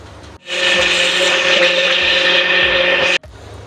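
A kitchen blender whirs loudly and steadily for about three seconds, blending mango with sugar into a paste, starting and stopping abruptly.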